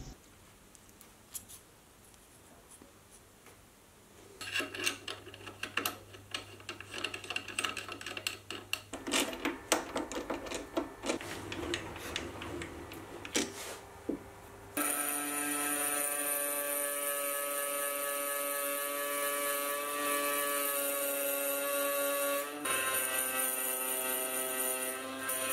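A lathe with a milling attachment cuts metal chips: an irregular scratchy, chattering cut first, then a steady high-pitched tonal whine with harmonics as the machine runs, fairly quiet, with no talk.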